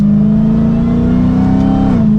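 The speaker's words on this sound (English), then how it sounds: "And a quick mild acceleration from third gear there." Supercharged V8 of a Dodge Challenger SRT Hellcat pulling hard from third gear in track mode, a loud steady engine drone with rising harmonics that dips slightly near the end, close and with no talk.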